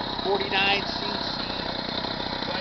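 A 49cc motorized bicycle engine idles with a steady, buzzing putter, close and continuous, while a person talks over it.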